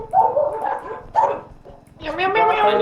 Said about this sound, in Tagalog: Ano yung mga aso sa amin eh.